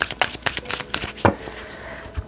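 Tarot cards are shuffled and drawn by hand, making a series of quick, close riffling snaps and soft slaps in an irregular rhythm, with one sharper flick partway through and no talking.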